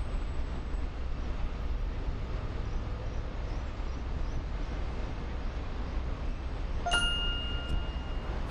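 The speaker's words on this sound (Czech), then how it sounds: "Něco tady cinklo." A five-crown coin drops and clinks once with a bright ringing ding, heard near the end over a steady low stage-room background hum.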